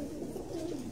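Pigeons coo softly in a low, rolling murmur, faint and close, with no talk over it.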